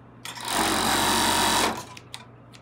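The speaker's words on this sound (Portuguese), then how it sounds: "então eu vou costurar aqui" A sewing machine stitches trouser pieces for unisex jogger pants, joining cut piping strips at the middle of the leg. One close, steady run of rapid stitching lasts about a second, then stops, with a few faint handling clicks after it.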